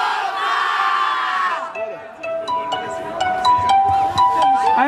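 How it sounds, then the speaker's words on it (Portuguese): A crowd at a rap battle cheers and shouts loudly together in a sustained roar, with individual voices calling out and whistles or horns sounding over the noise. "Faz barulho quem gostou do MC Angel."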